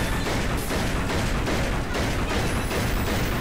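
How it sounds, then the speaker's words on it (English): Uni's gun firing in the video game Megadimension Neptunia Victory II, a loud dense barrage of rapid shots with booming impacts, continuous and harsh throughout with no talk. "I just love how Uni's gun is so loud as shit in this one"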